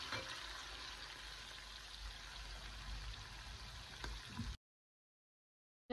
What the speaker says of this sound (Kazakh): Пиязымызды жақсылап қуырып алдық.